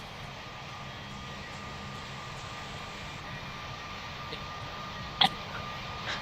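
Airplane engines drone steadily as a plane takes off from the runway in Pilot Training Flight Simulator, a constant moderate roar with a faint hum and a brief sharp click near the end.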